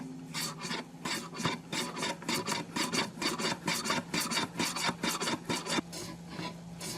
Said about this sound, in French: on débite la bonite séchée en copeaux chargés d'arômes marins